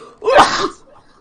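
One loud, abrupt sneeze, close and forceful, fading quickly into quiet.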